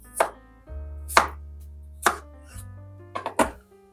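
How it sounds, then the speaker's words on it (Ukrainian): Peeled potatoes are cut into small pieces with a knife on a board. About five sharp, separate chops land at uneven intervals, close and clear, with no talk. "І картоплю нарізаємо також невеличкими шматками."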